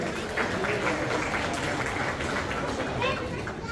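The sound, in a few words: audience applause for Sushil Dada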